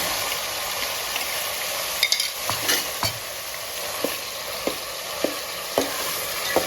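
Khoya fries in hot ghee for bottle gourd halwa, a constant close hiss with occasional spatula taps and scrapes against the pan, several in the second half.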